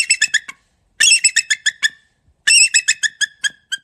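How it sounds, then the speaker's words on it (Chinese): Bald eagle calling in a series of high, thin, piping chirps, delivered in three quick bursts of rapid staccato notes that trail off, loud and close with no other sound. "这是白头海雕，它的叫声是这样的。"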